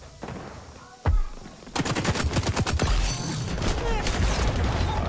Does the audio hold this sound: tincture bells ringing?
no